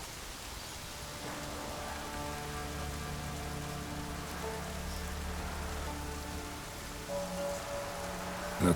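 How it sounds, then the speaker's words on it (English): Rain falling in the video game Witcher 3, a steady pattering hiss of drops on surfaces, with low ambient tones and faint music underneath, fairly quiet and continuous. "Looks like rain."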